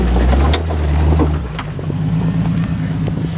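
An off-road vehicle's engine labors and revs in a low, loud drone while climbing loose rocks on a mountain trail, the pitch shifting partway through as it strains for traction.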